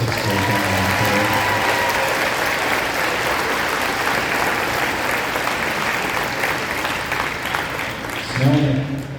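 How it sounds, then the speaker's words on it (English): A school audience claps loudly and steadily for a sixth grade band concert, sustained applause that fades slightly before a voice comes in at the end. "One more big round of applause for the entire 6th grade band"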